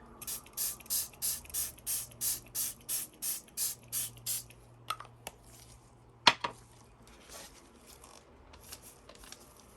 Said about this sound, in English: So let's spray it with more water.